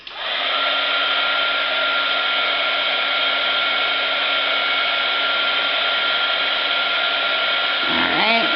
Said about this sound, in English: and I'm going to use my heat tool.